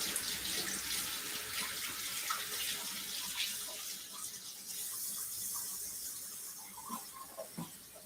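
Tap water runs steadily into a kitchen sink while equipment is rinsed under the stream, a continuous close hiss and splash with no talking.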